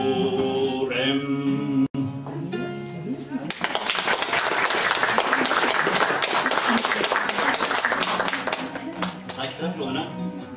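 An audience bursts into loud, sustained applause that fills the room for several seconds, following a stretch of someone speaking.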